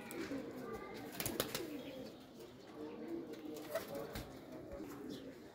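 Young home-bred pigeons cooing softly, with low repeated coos over a steady background hum and a few sharper clicks and flutters nearby.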